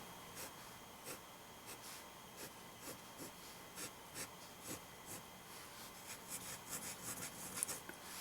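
A modern Parker 51 fountain pen scratches across ordinary paper in soft, rhythmic strokes roughly every half second, faint and close, growing busier toward the end.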